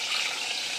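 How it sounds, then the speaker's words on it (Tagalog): Water pours into a cooking pot in a home kitchen, a brief, steady splashing rush lasting under a second, close and clear with no voices over it. "Ngayon, maglagay tayo ng 2 baso ng tubig."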